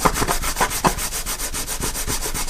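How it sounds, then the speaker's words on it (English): Sandpaper laid on a flat surface rubs against a 3D printed part in quick, even back-and-forth strokes, a close, loud rasping scrape repeated about six times a second with no voices. "take a piece of sandpaper on a flat surface and rub it over some"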